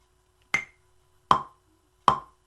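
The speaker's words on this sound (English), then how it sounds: "That sound you're hearing is called the metronome" A Maschine drum machine sounds its metronome, giving three sharp, evenly spaced clicks at a trap tempo of 78 BPM. Each click is crisp and close, and the short gaps between them are quiet.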